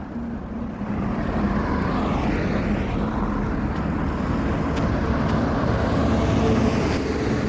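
A tractor loaded with iron rods drives along a road, its engine giving a steady, loud, continuous drone with no voices.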